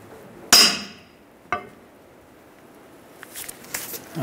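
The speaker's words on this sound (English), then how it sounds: "I'm hammering a 20 millimeter on because mine are pretty rusted in there." Two sharp metallic hammer strikes ring out about a second apart as a 20 mm socket is hammered onto rusted nuts on a Ford F-350 front hub, the first louder, followed by softer clanks and rattles.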